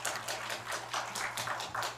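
Audience applause at a Korean national university performance forum after a presentation, a soft, distant patter of clapping in uneven pulses over a low steady room hum, quiet and brief.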